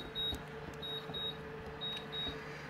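A kitchen oven alarm beeps in short, high, evenly spaced electronic tones, repeating in pairs against a low steady room hum, moderately loud and alone without talk.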